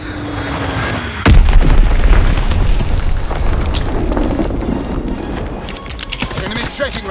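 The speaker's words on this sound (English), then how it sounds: "Enemy bomb incoming! Get to cover!" A loud bomb blast in Call of Duty WW2 multiplayer hits suddenly after a brief calm, followed by sustained rumbling and crackling debris and further smaller impacts, heavy and close.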